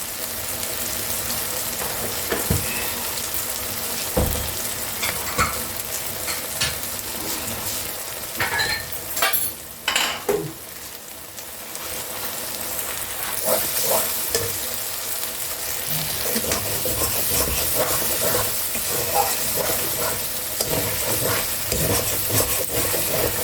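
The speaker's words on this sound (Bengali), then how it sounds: "মশলাটা খুব ভালো করে ভাজা হয়ে গেছে" Masala for Mughlai chicken fries in a pan, a continuous loud sizzle with scraping stirring strokes and clattering spoon hits, briefly quieter midway before the hiss swells again.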